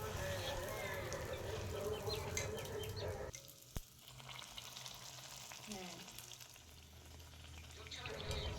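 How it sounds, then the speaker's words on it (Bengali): Phuchka puffing in hot oil makes a steady close sizzle and bubbling that dips briefly partway through, then builds again, with faint background sounds. "তেল গরম করে ফুচকা ভাজতে শুরু করে দিয়েছি"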